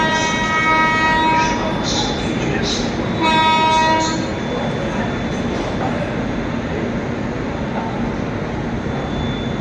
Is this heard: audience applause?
no